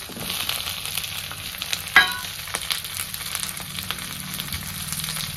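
Onions fry in a pan for a bitter gourd curry, a steady close sizzle with occasional stirring scrapes and one sharp clink of the spoon near the start.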